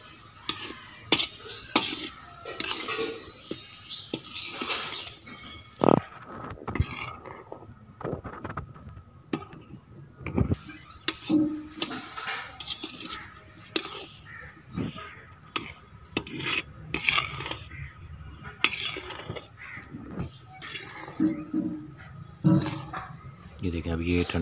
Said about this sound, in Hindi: चम्मच इसका हिलाते रहिएगा